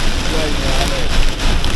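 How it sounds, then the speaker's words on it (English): Torrential rain pours down in a loud, dense, unbroken roar of hiss and patter, close and heavy, with wind-like rushing throughout. "I have never ever experienced rain like this."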